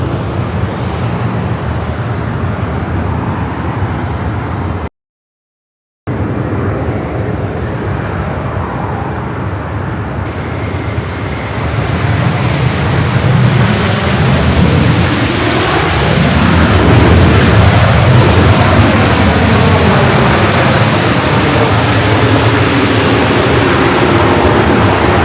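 A United jet bound for Tokyo Narita takes off from the north side at LAX, a loud roaring engine rumble that builds and swells with a sweeping pitch shift as it climbs, after a brief cut to silence.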